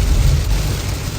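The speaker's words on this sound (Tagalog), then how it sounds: "Lakas ng ulan. Lakas." Heavy rain pours down in a steady, dense roar with a deep rumbling low end, loud and unbroken throughout, as if drumming on a roof or vehicle nearby.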